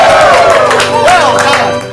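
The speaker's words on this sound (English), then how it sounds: "the crowd went wild!" An audience at a ComedySportz comedy show cheering and shouting loudly, dense overlapping voices in a continuous roar across the whole stretch.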